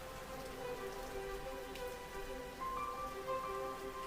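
Steady rainfall patters on surfaces around a village by a river, a continuous, moderately soft hiss of drops with no voices.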